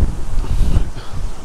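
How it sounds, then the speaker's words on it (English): Gusty wind buffets the microphone on a UK housing estate, a loud low rumble rising and falling in short bursts with no other sound. "But very windy"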